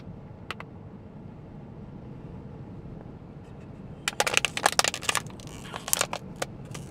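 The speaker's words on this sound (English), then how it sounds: "I had to crush this bottle." A plastic bottle is crushed by hand inside a car on the move, a cluster of sharp crackling snaps bunched after a quiet stretch of road rumble, then a few more crackles near the end.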